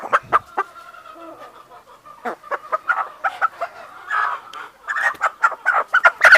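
A bearded, crested Kappiri hen on a native poultry farm gives a run of short, irregular clucks and murmurs, close and fairly soft, with the calls growing busier toward the end.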